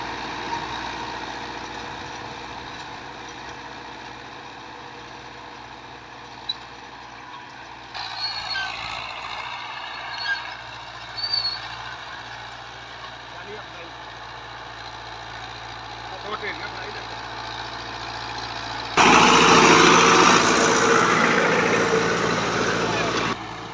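A New Holland 640 tractor engine rumbles low and steady throughout, with a louder, rougher surge of noise near the end.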